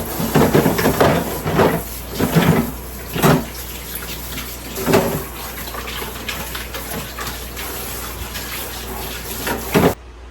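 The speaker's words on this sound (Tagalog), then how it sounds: "maghugas muna ako ng ginamit ko sa work kanina na baonan" Tap water runs and splashes steadily as a used lunch box is washed in a sink, with clattering bursts of handling and rinsing through the first half before the flow quiets, ending with a short splash.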